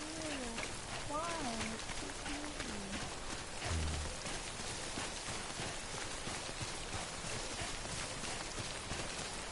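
Steady rain falls in the Death Stranding video game, a dense continuous hiss filling the whole stretch, with a voice talking and other game sounds faintly mixed in.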